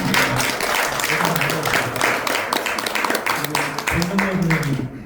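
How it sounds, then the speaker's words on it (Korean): Applause from an audience at a book launch event for a local history society, dense steady clapping throughout with voices mixed in. "우리 사무장 박수 한번 좀 쳐주십시오."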